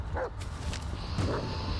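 A dog in the Blair Witch video game gives a couple of soft, short barks and yips, faint and spaced apart against a low ambient rumble.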